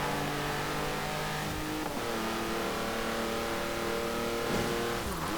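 A small 1.2-litre car engine in Forza Horizon 4 revs steadily and loudly, its pitch climbing through the gears with brief dips at each shift, heard alone without any talk.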